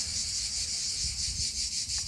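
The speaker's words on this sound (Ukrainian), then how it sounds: "Ці цикади починають." Cicadas at a seaside campsite in Croatia drone in a loud, steady, unbroken buzz that fills the whole stretch, with a faint low rumble of background noise beneath.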